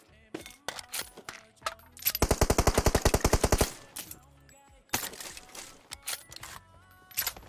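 Automatic gunfire in the mobile battle-royale game PUBG Mobile: a loud, rapid burst of evenly spaced shots lasting over a second, surrounded by scattered single game sounds and clicks.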